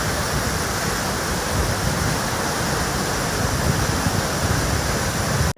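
A waterfall drops between mountains, giving a loud, steady roar of rushing water that fills the whole stretch without a break, then cuts off abruptly at the end.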